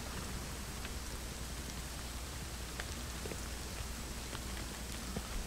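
Steady, soft rainfall in the game Rust, with scattered droplet ticks, a continuous even hiss without pauses or voices.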